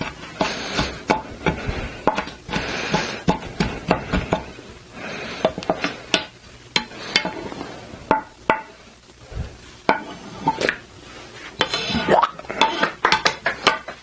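A spoon clinks and scrapes against a bowl while stirring a bruschetta tomato mixture, a long run of close, irregular metallic taps and swishes with brief pauses.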